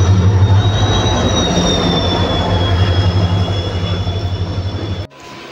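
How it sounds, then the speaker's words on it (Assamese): A train arrives at Simen Chapori railway station with a loud, close, low rumble and a sustained high wheel squeal that slowly falls in pitch before the sound cuts off. "তাৰপিছতে লাহেকৈ ইয়াত দেখিছেনে ট্ৰেইন আহি পালেহি।"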